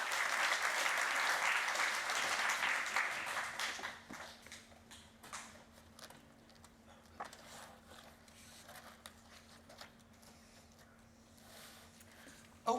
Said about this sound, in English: A round of applause for Sarah.